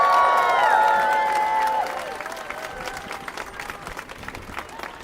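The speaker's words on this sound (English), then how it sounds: "Everybody, let's give them a round of applause" Applause and cheers from a crowd at a political rally welcoming elected officials, loud at first and then easing to a steadier, softer clapping.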